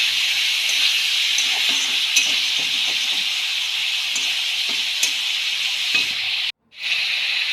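Meat frying in a pan for a home-style broiler chicken curry, a bright continuous hiss and sizzle with soft stirring scrapes, close and steady, cutting out briefly near the end.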